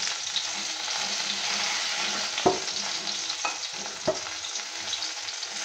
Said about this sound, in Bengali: এগুলো একটু ভালো করে ভেজে নিতে হবে।